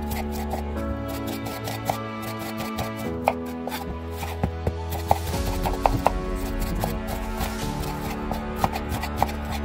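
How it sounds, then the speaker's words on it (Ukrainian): A knife taps rapidly and steadily on a cutting board, dicing onions close up with no one speaking, while a low hum runs underneath. "Спершу нарізаю на кубики дві великі цибулини."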